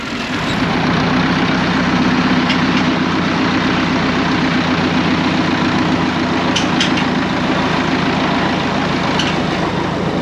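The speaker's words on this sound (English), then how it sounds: "we will go do a bit of digging with the Massey 50" A Massey Ferguson 50 tractor engine runs steadily at a low, throbbing idle-like rumble, close and loud without pause, as it heads out for digging work in a field.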